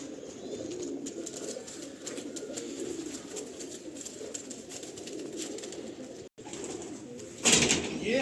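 Pigeons coo steadily inside a loft, a continuous low burbling chorus with soft wing flutters and a brief louder burst near the end.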